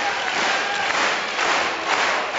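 A badminton crowd gives a standing ovation, with dense, sustained applause and scattered cheering filling the arena evenly throughout, loud and continuous with no clear pauses.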